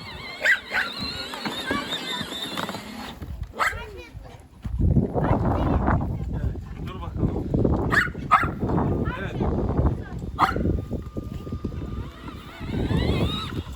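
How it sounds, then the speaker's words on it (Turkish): Several Kangal shepherd dogs bark and yelp excitedly at a car nearby, in repeated bursts over a low rumbling background. "Arabaya doğru havlıyorlar"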